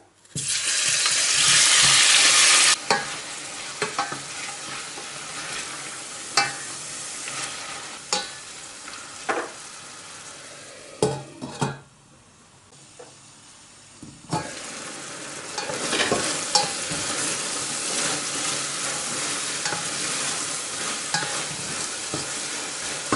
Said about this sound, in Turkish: kuşbaşı şekilde doğradığımız tavuk göğsünü katalım ve suyunu çekene kadar kavuralım